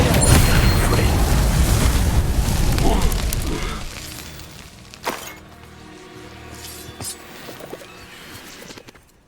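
Fire blast spells from a Hogwarts Legacy duel burst in loud, dense crackling explosions up front, then fade into scattered impacts and sharp hits over a quieter tail, with a voice calling out spells between them.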